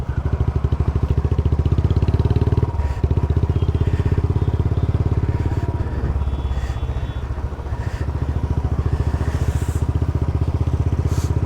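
A Royal Enfield Bullet Classic 350 motorcycle being ridden, its steady low thumping engine loud and close throughout, with a brief dip in the engine's note partway through.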